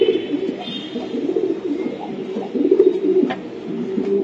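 Racing pigeons offered for sale by a club coo low and steadily throughout, a soft continuous burble with no talk over it.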